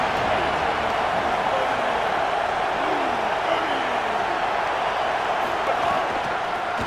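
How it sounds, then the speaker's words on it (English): A football stadium crowd at the start of a game makes a steady, broad roar that fills the whole stretch without letup, with faint thumps and swells within it. "This crowd ready to make its presence known."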